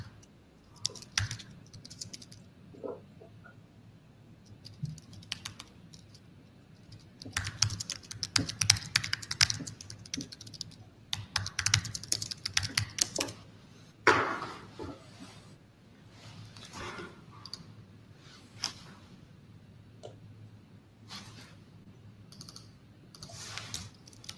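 Typing on a computer keyboard, close, quiet clicking keystrokes coming in irregular bursts and pauses over a long stretch, with a few louder taps and no talk.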